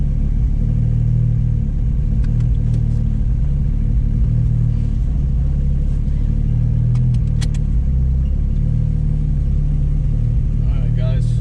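A truck with a 2JZ engine drives along, its steady deep engine rumble loud and continuous throughout, with small shifts in tone and brief faint clicks near the end.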